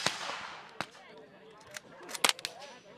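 A rifle with a late-1970s receiver and trigger guard fires several sharp, close shots, one at the start, one after a pause, then a tight cluster of quick cracks near the end, over faint background sound.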